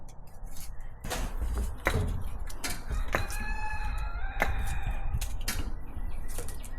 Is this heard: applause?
no